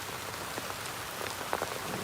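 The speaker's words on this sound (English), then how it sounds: "And now we got some fun rain" Rain falling outdoors, a soft steady patter with scattered individual drops ticking on a surface, fairly faint and even, with no voices.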